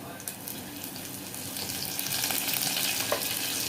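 Cumin seeds and curry leaves sizzle in hot oil as a tempering for toor dal with garlic, making a bright, close crackling hiss that swells louder partway through.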